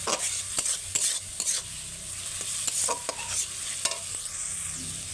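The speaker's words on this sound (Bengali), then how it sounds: "মশলাটা আমি ভালো করে কষিয়ে নেবো তেলের সাথে কষিয়ে নিয়ে তোমাদেরকে আবারও দেখাবো" Spice paste with salt is sautéed in oil, repeated scraping stirs of a spoon against the pan over a bubbling sizzle, close and fairly quiet, with no speech.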